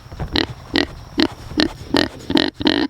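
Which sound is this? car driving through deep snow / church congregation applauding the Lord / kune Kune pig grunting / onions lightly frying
kune Kune pig grunting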